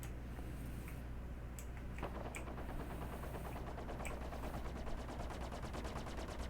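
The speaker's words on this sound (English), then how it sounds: "think that's someone firing at my ship" Gunfire strikes a spaceship in Star Citizen, a sustained rattling barrage of rapid impacts with sharper isolated hits, steady and fairly loud against a dense background rumble.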